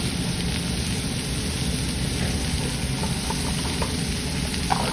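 Vegetables (celery root, mushrooms, carrots and onion) sizzling loudly in a braising pan, a dense, steady crackling hiss with small pops, alone and close.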